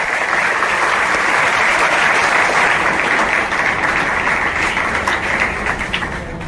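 Sustained, loud applause from a school event audience at a memorial gathering, dense clapping filling the whole span with a slight fade toward the end.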